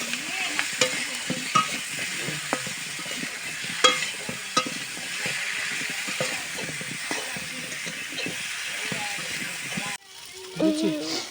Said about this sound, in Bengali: এইভাবে নেড়ে চেড়ে নিতে হবে